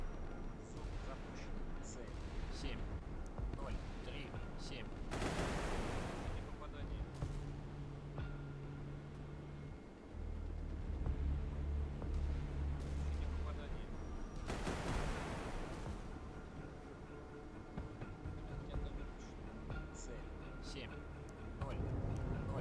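A salvo of missiles fires in a real-time strategy game, with two broad bursts of launch noise rising over a low battle rumble and a deep hum partway through.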